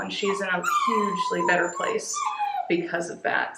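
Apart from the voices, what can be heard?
dog whimpering in the background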